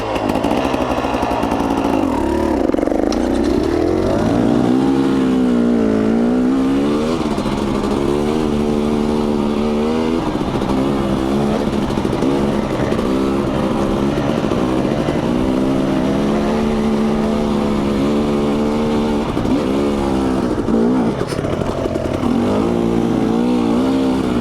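A KTM 250 XC and a Yamaha TTR125 dirt bike ride a rocky trail; their engines drone loudly and constantly, pitch rising and falling as the riders throttle up and ease off, close to the mic.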